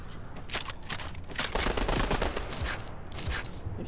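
Rapid, sustained video-game gunfire crackles close and loud for nearly four seconds, dense bursts overlapping with almost no gaps and no voices.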